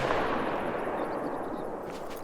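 Rapid rifle shots from a modern rifle in theHunter: Call of the Wild, fired in quick succession as a dense, continuous burst of cracks. They sound close and loud throughout, with no voices.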